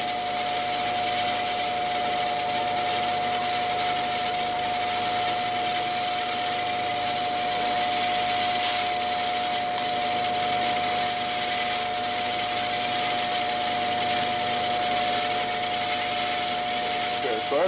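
A crankshaft balancing machine spinning a 6.0 Powerstroke crankshaft at steady speed, giving a loud continuous mechanical whine with fixed tones and a constant hum that hardly changes throughout.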